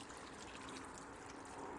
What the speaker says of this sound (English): just pour in that beef stock and just pour it over all the ingredients